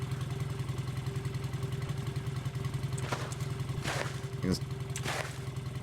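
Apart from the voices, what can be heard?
motorcycle engine in video game Cataclysm: The Last Generation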